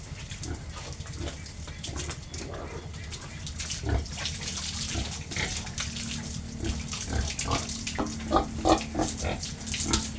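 Tap water runs and splashes over a pig being bathed while the pig grunts and snorts nearby. A person talks at moments over the steady flow.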